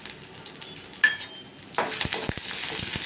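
Shallots and garlic hit hot sesame oil for a cough-and-cold rasam: a sudden loud sizzle bursts in and settles into steady frying, with a few sharp utensil clicks toward the end.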